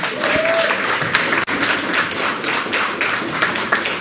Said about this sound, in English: let's just give one more round of applause to Ms.